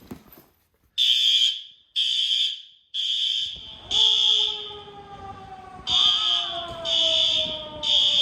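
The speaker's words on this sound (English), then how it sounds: "another fire alarm, but another false alarm again" A building fire alarm sounds a false alarm, repeating loud, harsh electronic buzzer blasts in a steady rhythm of roughly one per second, with a wailing siren tone sliding underneath partway through.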